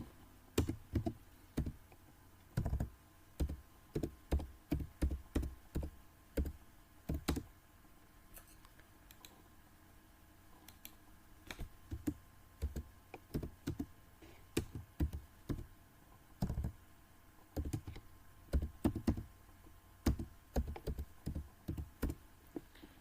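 Typing on a computer keyboard while entering a definition in a Microsoft Office program, with steady bursts of close, crisp key taps and short pauses between words.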